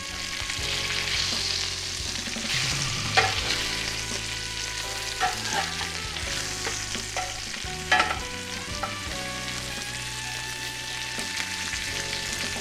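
Juicy Lucy burgers seasoned with steak seasoning sizzle steadily in a skillet, with spatula scrapes and several sharp clanks as the patties are flipped, close and continuous, no voices.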